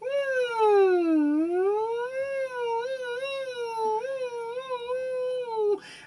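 A voice imitates a siren during a beatbox vocal warm-up, gliding smoothly down then up and wavering in pitch like a wailing siren for about six seconds, close and clear with no other sound.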